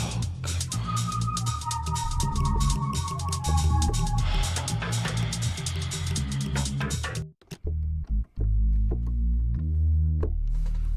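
A Reese bass preset on a Rob Papen synth, drenched in reverb, plays a thick, droning low line with steady pulsing notes, briefly cutting out before resuming alone.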